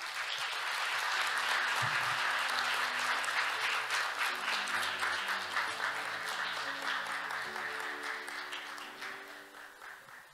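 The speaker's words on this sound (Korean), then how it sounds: "큰 박수로 환영해 주시기 바랍니다" A large conference audience applauds in a dense, steady wash of clapping that gradually thins and fades out.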